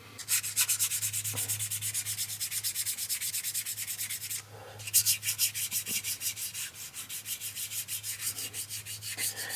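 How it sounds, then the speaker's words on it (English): Primed alloy wheels from a 2011 Ford Fiesta are lightly scuffed by hand with sandpaper: steady, rhythmic back-and-forth rasping strokes, close and continuous, with a brief pause partway through before the strokes resume. "I'm going to briefly sand them"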